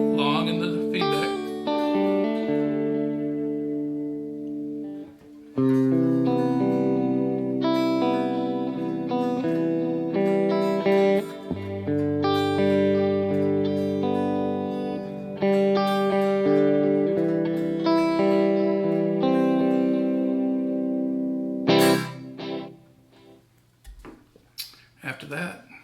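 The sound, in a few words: guitar through AAR AC30 amp with Mod Chorus Echo delay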